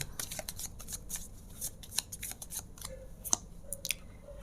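A deck of tarot cards is shuffled close by in a quiet room, with rapid riffling and flicking bursts of crisp paper clicks repeating over several seconds, and no talking.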